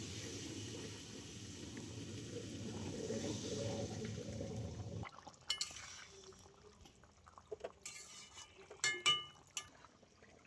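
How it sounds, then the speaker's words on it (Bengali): Water poured into a pan of spiced curry with potatoes and young jackfruit, a steady rushing splash and sizzle for about five seconds, then quieter simmering with scattered clinks of a utensil against the pan. "এবারে আমি জল দিয়ে দিচ্ছি"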